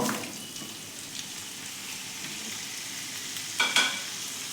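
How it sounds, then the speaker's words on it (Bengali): Pumpkin and potato pieces fry in white oil in a kadai for kumror ghonto, a soft continuous sizzling hiss with a short clatter of stirring near the end. "এবারে এর ভেতরে আমি কুমড়ো আর আলুগুলোকে দিয়ে ভেজে নেব"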